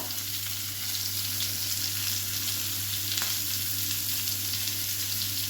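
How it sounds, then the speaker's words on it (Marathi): Stuffed bitter gourds fry in oil with curry leaves in a pan, giving a steady, close, continuous sizzle with no talk over it. "हे छान आता झाकण देऊन आपल्याला छान फ्राय करून घ्यायचे आहेत"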